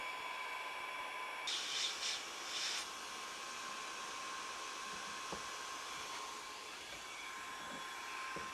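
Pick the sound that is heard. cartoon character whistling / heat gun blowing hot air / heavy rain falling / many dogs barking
heat gun blowing hot air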